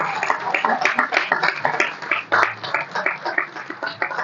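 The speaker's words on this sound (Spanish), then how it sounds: "Así que aplauso" A crowd at a Paraguayan Guaraní cultural association's 30th anniversary event claps in a dense, rapid patter that runs unbroken throughout, close and fairly loud, with a hint of voices underneath.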